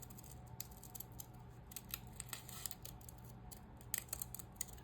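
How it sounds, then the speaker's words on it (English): Decorative scissors cut through paper stamps with a quick series of crisp snips and rustles, close and fairly quiet, over a low steady background hum. "So I've got these cool scissors and we're just gonna chop,"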